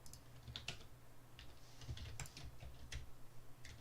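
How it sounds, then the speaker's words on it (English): A very loud computer keyboard clatters with irregular clicks and key taps over a low steady hum, fairly close, with no talking. "I have a very loud keyboard."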